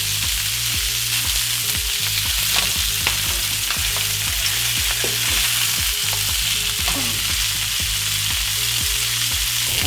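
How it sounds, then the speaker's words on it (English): Meat searing in a hot pan, a loud steady sizzle and fry throughout with a low rhythmic hum and occasional scrapes from turning the pieces, no voices. "All we want to do now is just brown all sides of the meat."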